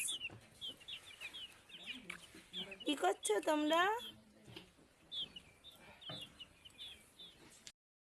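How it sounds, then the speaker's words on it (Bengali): A group of small chicken chicks peep and cheep in high, rapid bursts close by, with a louder run of calls in the middle, while someone talks to them. "আর এদিকে মুরগি ছানা দেখো কতগুলো মুরগি ছানা"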